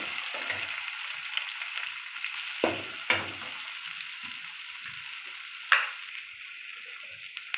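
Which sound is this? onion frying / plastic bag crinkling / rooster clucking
onion frying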